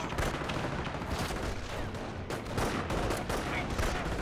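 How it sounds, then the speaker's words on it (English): Dense gunfire from the Company of Heroes video game, with a rifle squad under attack: continuous loud rattling bursts and shots layered into a busy battle din with no pause. "Rifle squad taking fire!"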